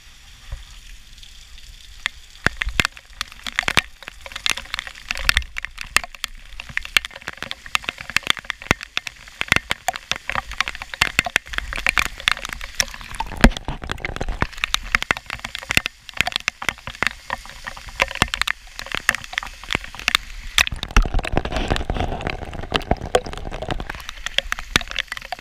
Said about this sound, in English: heavy, heavy rain.